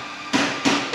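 Hammer blows ring out in a car workshop during service work on a Ferrari 360 Challenge Stradale Spider, three sharp metallic strikes spaced about a third of a second apart, moderately loud over steady shop hiss.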